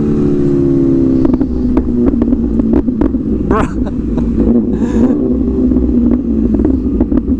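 A hyper naked motorcycle engine revs close by under a rider's chatter, its deep harmonic drone rising and falling with sharp exhaust pops and crackles scattered throughout.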